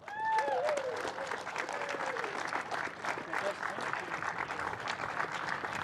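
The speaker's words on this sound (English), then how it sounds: "Make some noise in the house, Louis Sharp." Crowd applauding at a motorsport podium ceremony at Highlands Motorsport Park, steady dense clapping throughout, with a voice heard briefly at the start.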